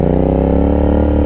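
A Royal Enfield 650cc motorcycle accelerates in first gear: a loud, close, steady engine drone with rich harmonics whose pitch rises slightly.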